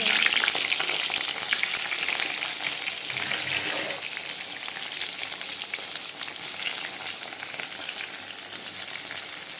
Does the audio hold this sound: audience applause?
no